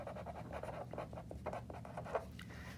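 Handwriting with a pen or pencil on paper, a faint run of short scratchy strokes close to the microphone, continuous over about three seconds.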